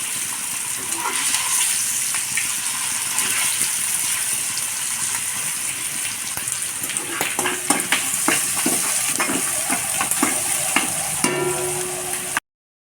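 An egg fries in hot oil seasoned with salt and turmeric, giving a steady close sizzle with crackles and spatters and occasional scraping stirs before it cuts off abruptly. No one speaks.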